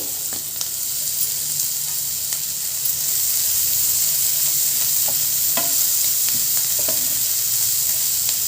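Three finely chopped green chillies fry in a pan for egg keema masala, a steady loud sizzle with occasional clicks of stirring and no talk.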